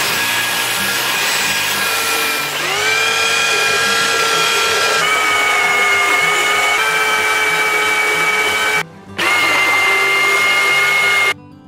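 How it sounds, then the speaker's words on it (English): A power sander works steadily over a wooden pallet wine rack, a loud continuous whirring grind with shifting pitch that cuts out briefly near the end before resuming. "we're gonna go grab a sander and touch it up, sand it up, clean off the corners"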